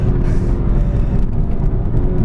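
A 2016 BMW 340i (F30) engine pulls hard toward a 7,000 RPM redline in first gear, a loud steady roaring drone heard from inside the car without talk.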